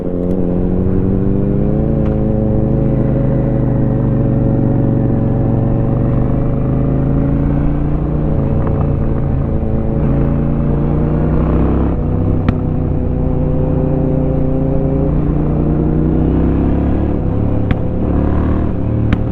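Honda Shadow 750 motorcycle engine droning steadily while riding through Edmonton, a loud close hum that rises and falls gently in pitch with throttle changes, continuous with no talk.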